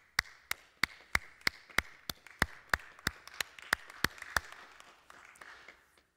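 Hands clap in a steady, even rhythm, about three claps a second, fairly close, then fade out near the end.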